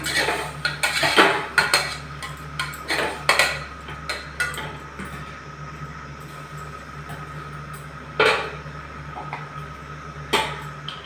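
A spoon stirs turmeric into pachadi in a pot, giving irregular close metallic clinks and scrapes in bursts, with quieter stretches between them and no voices.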